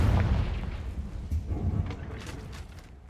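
The Confringo blasting spell explodes in Hogwarts Legacy, a deep booming burst that rumbles and decays over a few seconds, heard alone.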